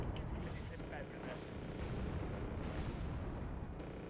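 Bombs explode in the Wargame: AirLand Battle strategy game as a dense, continuous rumble of low booms and blasts. Distant speech runs underneath the steady battle noise.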